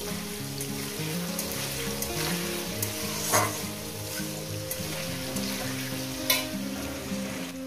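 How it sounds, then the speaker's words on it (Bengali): Potato pieces frying in a pan with salt for a vegetarian drumstick and poppy-seed dish, a steady close sizzle with a few sharp spatula scrapes and knocks against the pan. "এটাকে আমি ভালো সুন্দর করে মিনিমাম 4-5 মিনিট ধরে আলুটাকে আমি ভেজে নেব"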